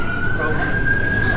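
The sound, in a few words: police siren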